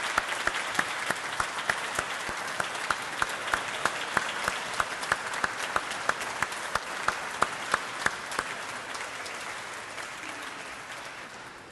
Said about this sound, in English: Graduates, let's give them a round of applause.